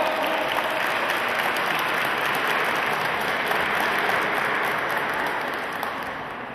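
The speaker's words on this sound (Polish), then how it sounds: "poproszę o gorące brawa na przywitanie" Loud, dense applause from a crowd at an outdoor charity event's official opening, welcoming the town's mayor onto the stage, a sustained roar of clapping that tapers slightly at the end.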